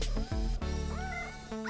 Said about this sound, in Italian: I gatti hanno sentito abbaiare.